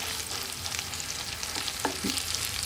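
Chorizo frying with onion in a pan gives a steady, fairly loud sizzle throughout, with a couple of brief stirring scrapes near the end and no talking.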